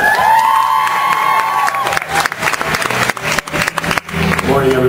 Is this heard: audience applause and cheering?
yes